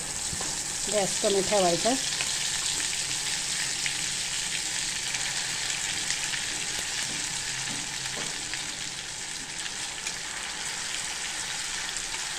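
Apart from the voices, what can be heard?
spice masala frying in hot oil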